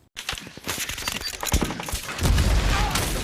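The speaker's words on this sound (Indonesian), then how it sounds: "mereka berempat kembali dihujani peluru" Heavy film gunfire as bullets rain down on four soldiers: dense bursts of shots and booming impacts crowding together, swelling louder toward the end into a continuous roar.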